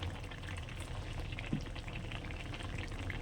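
Khalsa fish curry with fried fish and bori lentil dumplings simmers in a pot, giving a steady, low bubbling hiss throughout with one small tap near the middle and no voices.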